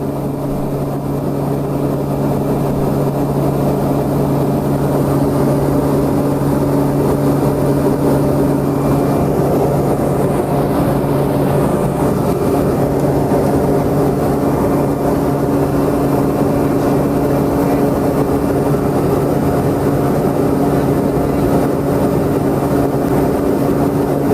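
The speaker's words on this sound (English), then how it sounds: "As I said, it's a 10-passenger plane." A steady, loud droning engine hum with a low tonal whine, continuous throughout, heard from inside the cabin of a small 10-passenger Sounds Air plane in flight.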